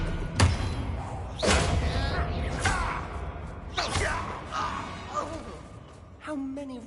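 A disarming spell cast in Hogwarts Legacy during a fight with Ranrock's loyalists, landing as several thuds and whooshes spread across a few seconds, with grunts and gasps between the hits.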